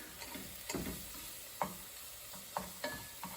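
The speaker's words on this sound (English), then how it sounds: "Stir that around. Get all of that flour incorporated." A spoon stirring flour into potato soup in a pot, with scraping strokes and soft sizzling and bubbling between them, close and moderately quiet, and no voices.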